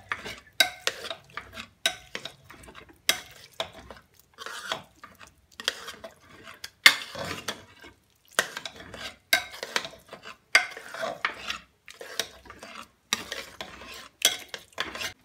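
Cooked pav bhaji vegetables being mashed with a hand masher in a pan, a quiet series of squelching, scraping strokes at a steady rhythm with short pauses and no talking.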